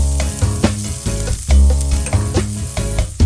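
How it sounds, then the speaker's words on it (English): Chopped onions sautéing in hot avocado oil, a loud steady sizzle broken by repeated scraping stirs of a utensil against the pan, close up with no talking. "let's start off by sauteing some onions, and I'm going to use a high smoke point oil like avocado oil"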